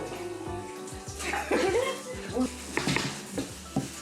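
Items are washed under running water at a home sink, with splashing, sloshing and the light clatter of dishes close by, while voices talk quietly in the background.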